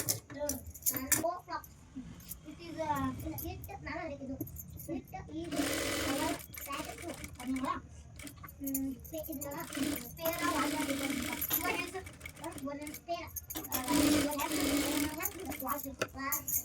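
A sewing machine stitches fabric for a palazzo top for a 7 to 8 year old girl. The motor whirs in close, repeated bursts, with someone talking and children's voices in the background.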